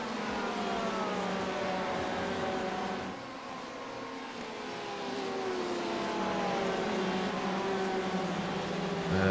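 Porsche 991 GTE race cars lap together in iRacing, a pack of high-revving engines droning and whining through shifting pitches as they accelerate and brake, sustained and fairly loud without voices.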